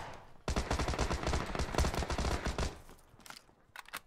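Enemy gunfire in PUBG crackles as a dense rapid burst of automatic shots for over two seconds, then a few scattered single shots follow, fairly distant and without talk.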